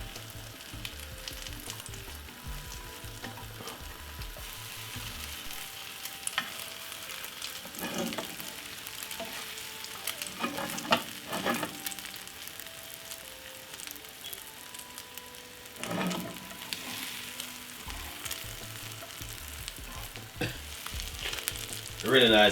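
Egg rolls frying in a pan, a steady close sizzle and crackle of hot oil that runs the whole time with brief stirring noises and no talk.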